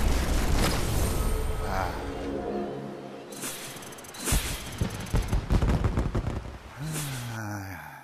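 Loud blasts and crackling bursts in the VR game Swarm, with a dense burst midway and a rumbling tail, under ongoing game noise and a synthetic warning voice.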